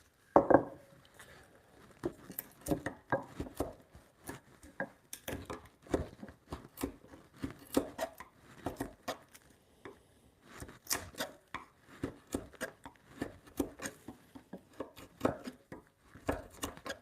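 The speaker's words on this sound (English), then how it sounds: "I'm actually not super happy with how sharp that chisel is." A chisel hand-cutting timber joints for a bunk bed, close-up and quiet, with irregular sharp taps, chops and scraping paring strokes repeating over a long stretch.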